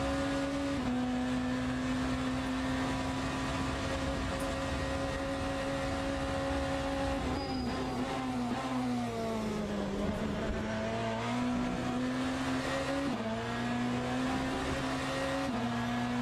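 A BMW hypercar lapping the Imola circuit in the Le Mans Ultimate video game: a steady, fairly quiet engine drone that holds one pitch, then drops and climbs again through gear changes, with no one speaking.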